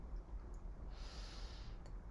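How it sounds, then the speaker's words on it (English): One slow, deep breath drawn in through the nose during a grounding voice warm-up, a soft airy rush lasting just under a second, close and quiet against a low room rumble, with no talking. "Inhale deeply."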